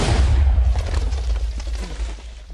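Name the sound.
Minecraft TNT explosion, video game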